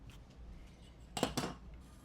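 Scissors snip through the corners of a bookbinding hardcover, giving a short cluster of two or three crisp cuts near the end, close by and moderately loud, with no talk.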